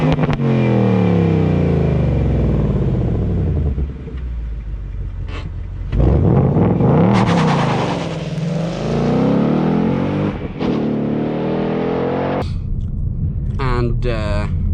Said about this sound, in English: you get these crazy exhaust notes